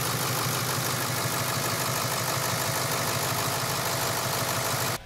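A Ford 7.3L diesel engine, just refitted with a new alternator, runs at a loud, even, rumbling idle with a steady clatter throughout, close by, cutting out abruptly at the very end.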